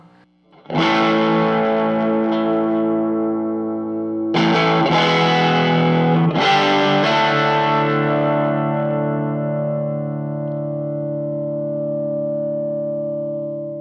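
An electric guitar played through a Rat-style distortion pedal with the gain at noon rings out in three loud, harmonically rich strummed chords, each left to sustain and decay slowly.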